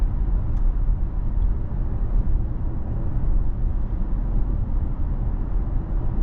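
Steady low road rumble from inside a Tesla car driving itself on Full Self-Driving v14.2, continuous tire and cabin noise with no voices.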